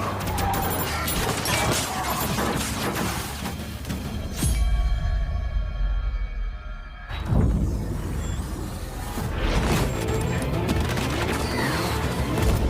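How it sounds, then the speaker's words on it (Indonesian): Gunfire in an action shootout scene against a combat robot, dense bursts of loud shots and crashes filling most of the clip, with a brief quieter stretch of ringing tones in the middle before the firing resumes. "aksi tembak-tembakan pun terjadi"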